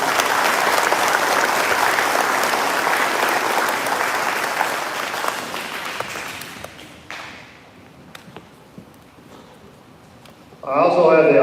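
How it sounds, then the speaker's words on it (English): Dense applause from an audience at an eighth-grade promotion ceremony for graduating students, loud and sustained before thinning out to scattered claps, then a voice starts speaking at the end. "Let's have one last round of applause for all these outstanding students."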